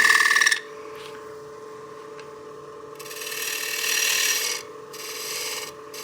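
A skew chisel cuts spinning wood on a lathe for a cake stand, giving short hissing, scraping bursts of varying length over a steady low motor hum, close and fairly loud.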